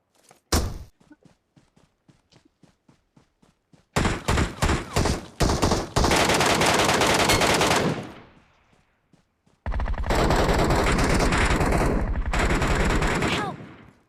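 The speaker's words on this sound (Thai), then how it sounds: "ยิงกันอยู่" Gunfire in PUBG Metro Royale starts as a run of sharp single shots, then breaks into loud sustained automatic bursts that cut off and return, close and dominant.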